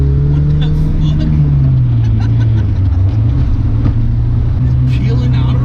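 Honda EF sedan with a B20 VTEC engine accelerating hard, a loud continuous engine drone with shifting pitch heard from inside the car, with people talking over it.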